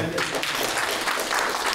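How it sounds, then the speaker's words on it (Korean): Brief burst of audience applause at an academic conference, dense clapping from a room full of people, fairly loud and steady. "박수 한번 주시죠"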